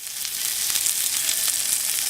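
Halibut fillets sizzle as they hit a smoking-hot pan for blackened fish, a steady loud hiss with crackling spatter throughout.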